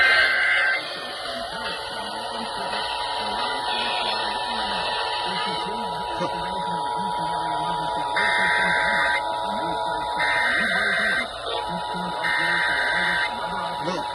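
Emergency alert system tones broadcast for a severe thunderstorm warning in the Houston area, a steady electronic buzzing alert with repeated bursts, heard over continuous talk.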